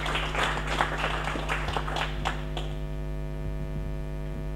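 A conference audience at a security event gives speakers brief applause that fades out after a few seconds, leaving a steady electrical mains hum underneath throughout.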